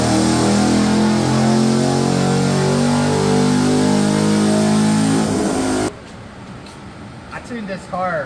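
A dead-stock Chevrolet LT1 V8 car revs hard and climbs steadily on a dyno during a baseline pull, then cuts off abruptly, leaving people talking over the quiet.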